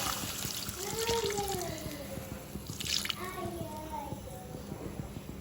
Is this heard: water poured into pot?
yes